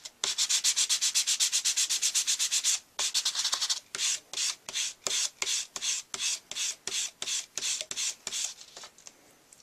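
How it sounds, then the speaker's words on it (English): Rhythmic rasping strokes of a sanding block rubbing a metal surface, fast and continuous at first, then slower separate passes, loud and close. "and I'm just going to start sanding."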